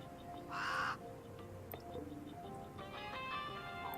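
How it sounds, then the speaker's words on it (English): Hubris, a pet raven in a video game, gives one loud, harsh caw near the start, followed by faint game ambience with soft ringing tones. "My pet raven Hubris."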